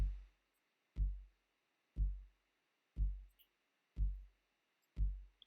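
A short house-music beat sequence plays back as six deep, punchy kick-drum hits spaced evenly about a second apart, each thump decaying into silence before the next.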